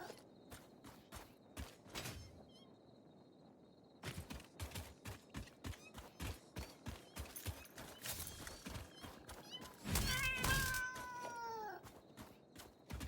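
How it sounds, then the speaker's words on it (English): A cat in a video game meows and caterwauls, its drawn-out wavering cries rising clearly over a busy run of rhythmic clopping and thumping game noise, with the loudest yowls near the end. "Bye, kitty cat."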